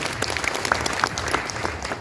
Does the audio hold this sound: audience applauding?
yes